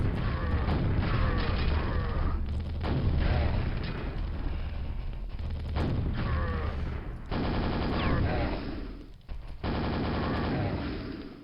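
Rapid, dense gunfire from a bullet hell video game, continuous bursts of shots and impacts with brief gaps, loud and close with game effects layered over the barrage.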